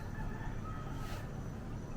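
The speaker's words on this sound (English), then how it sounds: "There are a lot of chickens and roosters." Wild chickens and roosters on Oahu, Hawaii, cluck and call faintly in the distance through a continuous outdoor background wash, with no clear single crow standing out.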